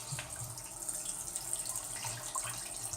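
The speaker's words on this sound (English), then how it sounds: "So let's add some more water," Water runs steadily from a bathroom tap into a sink during a shave with a razor, a faint continuous splashing stream with light dripping, close by and without voices.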